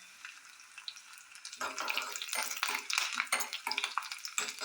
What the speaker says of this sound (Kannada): ಫ್ರೈ ಆದಮೇಲೆ ಕರಿಬೇವಿನ ಸೊಪ್ಪು, ಒಣಮೆಣಸಿನ್ಕಾಯಿ